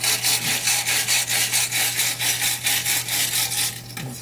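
A wire brush scrubs carbon buildup from inside a motorcycle exhaust pipe in loud, rhythmic back-and-forth strokes, about four per second, close up and alone with a low steady hum beneath.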